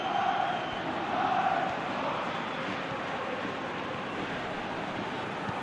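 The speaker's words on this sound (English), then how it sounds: "Well, the crowd clearly like what they just saw." Stadium crowd in the eFootball 2026 video game roaring steadily after a goal during a World Cup match, a dense, continuous wash of cheering that swells slightly near the start and holds loud throughout, with no speech over it.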